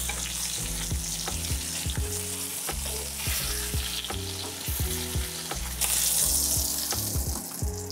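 Thick hamburger patties fry in a home frying pan over uneven heat, a dense continuous sizzle and spatter with a steady tonal hum and repeated knocks as the pan is shifted, close and unvoiced.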